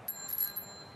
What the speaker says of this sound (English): A bicycle. Ring the bell, ding,